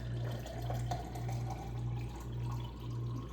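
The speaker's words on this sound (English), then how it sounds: "gonna pour from one glass to the other" Water is poured from one glass into another through a water-structuring device, giving a faint, steady trickle over a low pulsing hum.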